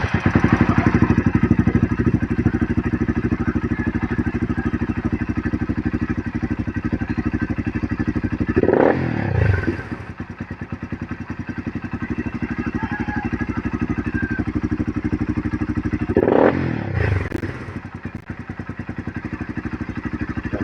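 A motorcycle engine idles steadily with a fast, even putter, interrupted twice by short bursts of clatter or handling noise, and no speech over it.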